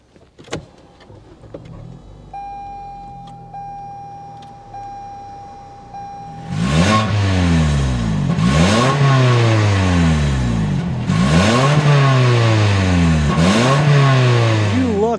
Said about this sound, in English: start it up so you can hear that exhaust note